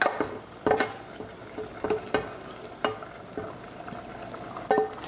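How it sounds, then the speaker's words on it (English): Tempered spices go into a pressure cooker of turnip sabzi and get stirred, a soft sizzle punctuated by several sharp spoon clanks and scrapes against the metal pot, with no voices. "After adding our tadka, I'm going to mix it and keep your gas on medium low."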